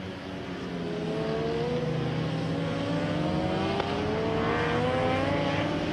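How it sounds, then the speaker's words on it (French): Superbike racing motorcycles at Misano accelerate hard, producing a loud, continuous high-revving engine scream with rising pitch sweeps as the bikes pull through the gears, heard without speech. "réaccélérer le plus fort possible avec la moto droite pour Polita."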